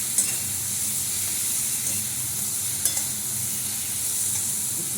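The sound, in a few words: spice paste being stir-fried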